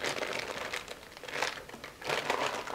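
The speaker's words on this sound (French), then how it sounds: "Ouvrir le paquet de noisettes." Plastic crinkles in bursts as a packet of hazelnuts is opened, close and fairly quiet crackling that swells and fades, with no talk over it.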